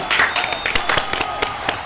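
Several podcast guests clapping together in a small room, a short, close burst of quick, uneven claps lasting under two seconds.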